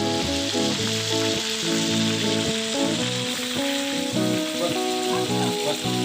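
Food frying in hot oil until crisp, with a constant dense sizzle and crackle, close and loud, while a steady tonal pattern of music runs underneath without any talk.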